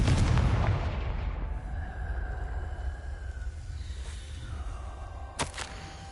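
A Confringo blasting spell explodes in the Hogwarts Legacy video game, a loud boom at the start that rolls into a long, low rumbling decay, with a sharp pop near the end.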